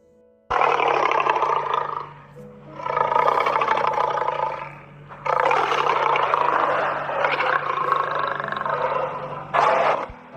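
A lion roars in four long, loud bellowing bursts separated by short pauses, the last one brief, heard close and alone without talk.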